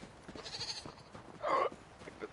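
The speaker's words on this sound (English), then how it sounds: "It's a little goat." A baby goat in the video game Elder Scrolls Online gives one short, fairly loud bleat near the middle, over a soft background of game ambience.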